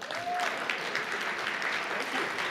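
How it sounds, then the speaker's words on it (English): An audience claps to welcome Denver Botanic Gardens CEO Brian Vogt to the podium, a continuous, fairly distant round of applause with a brief whistle-like tone near the start. "let's welcome him and give him a hand of applause"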